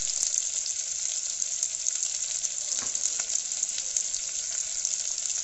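Sliced onions and green chillies frying in hot oil, a steady bright sizzle with crackling pops running throughout, close and even, with no talk.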